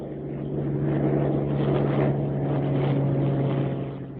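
A Bell P-39 Airacobra fighter's engine runs during takeoff as a loud, steady droning roar with a strong low hum, swelling slightly and then easing at the end.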